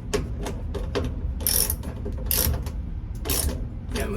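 Quick ratcheting clicks come from a hand ratchet snugging down a part on a GE top-load washer, close and loud, in short repeated bursts with brief pauses between strokes.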